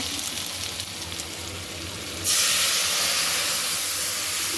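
Lentils (dal) poured into a hot pan already holding white cumin and ground coriander burst into a loud, steady sizzle about halfway through, following quieter background hiss.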